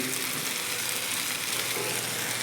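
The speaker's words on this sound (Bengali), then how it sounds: "এই যে ডিম ফ্রাই করে নিয়েছি" Eggs frying in a pan give a steady, dense sizzle of hot fat that holds at an even, fairly loud level throughout, close and continuous with no talking.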